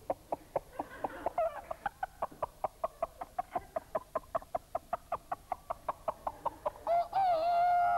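A voice imitates a hen clucking before she lays an egg, producing a long run of rapid, evenly spaced clucks that ends in a drawn-out, rising cackle, close and alone.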